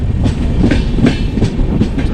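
Passenger train at Kankavli station on the Ratnagiri to Sindhudurg route, a steady loud rumble of rolling wagons with faint clickety-clack rhythm throughout.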